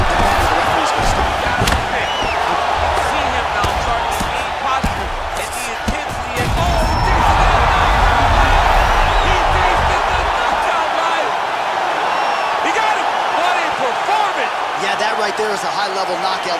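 A large arena crowd roars and cheers after a knockout in the UFC 4 fighting game, a loud sustained wash of voices with thuds and impacts early on and talk running underneath.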